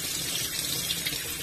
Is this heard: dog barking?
no